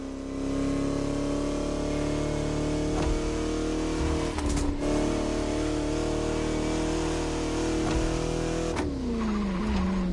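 Vintage Bugatti driving along French countryside roads in The Crew Motorfest, a steady engine drone with harmonic tones that shift as it revs, a brief skid-like burst near the middle, continuous and close with no talk.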